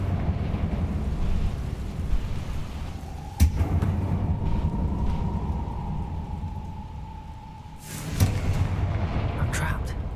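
Confringo fire spells explode in the Hogwarts Legacy video game, with two sharp booming blasts landing over a continuous low, rumbling din.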